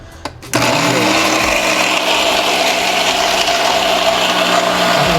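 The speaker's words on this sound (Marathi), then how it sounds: "थोडंसं पाणी घातलं की मिक्सर बरोबर चालू होतो" After a couple of brief knocks, a kitchen mixer grinder with a little water added starts up and runs loudly and steadily, holding an even whirring drone to the end.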